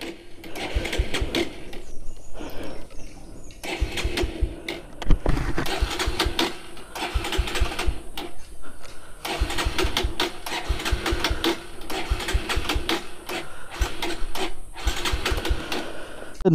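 A Bajaj Pulsar Neon 150 motorcycle engine is cranked in repeated start attempts, a rapid mechanical chatter that runs nearly the whole time in bursts with brief gaps and fails to catch.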